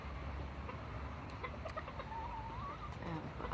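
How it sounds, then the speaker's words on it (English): Small Serama chickens and a rooster in a backyard coop in the morning, with soft, close clucks and murmurs and a short warbling call, all faint against a quiet background. "I didn't want them complaining about the noise of the roosters"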